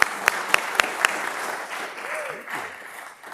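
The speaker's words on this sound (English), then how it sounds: "Let's give them all a round of applause." Applause at a city council meeting opens with a few sharp, separate claps close by, then the crowd clapping thins into a diffuse murmur with voices and faint squeaky tones underneath.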